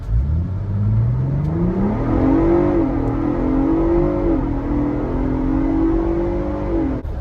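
A Ford Bronco Raptor, fitted for an intercooler comparison, pulls hard from a standstill to 60 mph: a loud, rising engine roar that climbs through several gear shifts, continuous and close with no talking.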